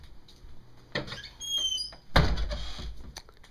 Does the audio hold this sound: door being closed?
yes